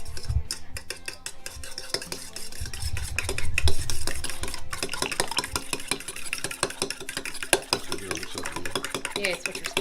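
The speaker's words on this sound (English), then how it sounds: "Whisk it. We'll whisk it." A whisk works a blue crab mixture in a bowl with rapid, scraping metallic strokes, fairly close and steady, along with clinks of utensils and a low hum in the background.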